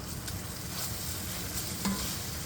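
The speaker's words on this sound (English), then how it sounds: "We're going to stir that up some more." Peppers, onions and meat frying in a pan are stirred, giving a soft continuous sizzle with faint scraping, steady and close with no voices.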